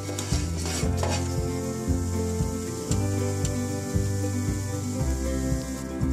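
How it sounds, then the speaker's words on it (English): Cumin seeds hitting hot oil for tempering a bottle gourd sabzi, a bright sizzle and crackle over clinks of a pot and spoon, with a low steady hum running beneath throughout. "For the tempering, my oil is already heated up. Here goes some cumin seeds."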